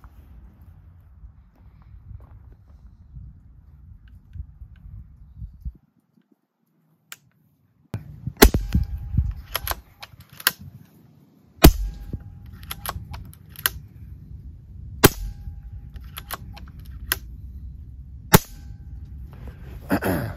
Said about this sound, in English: So let's just do a few shots to show the cycling.